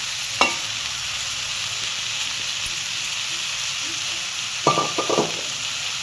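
Drumstick (moringa) leaves hit a hot pan and sizzle steadily under a continuous frying hiss, with a couple of brief stirring scrapes and clatters, one early and another near the end.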